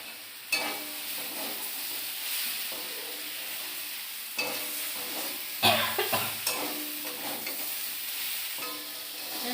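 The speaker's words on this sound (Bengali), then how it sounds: "এই যে বন্ধুরা, এটা ভাজা ভাজা হয়ে গেছে। এই যে কাঁচা লঙ্কা দিয়ে দিলাম।" A pan of vegetarian food frying with green chillies just added, loud sizzling broken by several sharp scraping stirs and clatters from a spatula.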